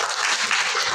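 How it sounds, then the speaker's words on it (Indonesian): A brief burst of dense clapping from a class of students in an Indonesian school lesson, loud and close, a full wash of hands for about a second. "Betul, tepuk tangan."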